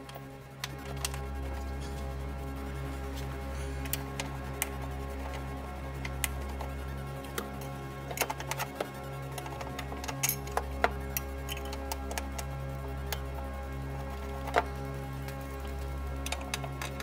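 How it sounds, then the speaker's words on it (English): A 13mm socket ratchet tightens the battery bracket bolts on an Audi RS5, its rapid ticking clicks coming in repeated runs and brief pauses, close and moderately quiet over a constant low hum. "Loosely insert all the bolts on both the front and the back side. Secure them with a 13mm socket."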